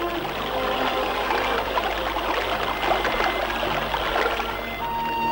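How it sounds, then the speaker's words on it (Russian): Thawed mountain waterfalls in the Sayan range rush steadily down a gorge, a continuous broadband roar of falling water heard at moderate distance with no voices. "Оживают скованные льдом водопады, набирают силу и с ревом бросаются вниз по ущелью."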